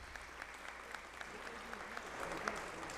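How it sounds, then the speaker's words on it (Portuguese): Audience clapping steadily at a solemn session of the São Paulo Legislative Assembly honouring award recipients, a dense sustained applause with scattered louder claps and no voices over it. "Uma salva de palmas aos recipiendários"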